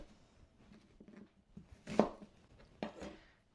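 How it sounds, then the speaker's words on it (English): A knife cuts an onion in half and then into quarters on a board, with a few dull, scattered chopping knocks and one louder thud in the middle, and no talking. "So I'm going to cut the onion in half and then into quarters."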